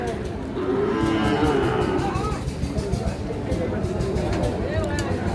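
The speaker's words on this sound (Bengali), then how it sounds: "শাহিওয়াল ষাঁড় বাছুর" Sahiwal bull calves low and moo at a rain-soaked livestock market, with several calls rising over a steady hubbub of crowd chatter and people talking nearby.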